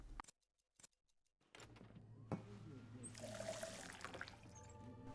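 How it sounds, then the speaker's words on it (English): Water pouring from a sink tap into a mug in the video game Twelve Minutes: a steady running trickle lasting several seconds after a few soft clicks, mid-distance, with a faint voice in the background. "use the mug on the sink to fill it with water"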